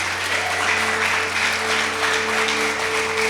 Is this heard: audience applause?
yes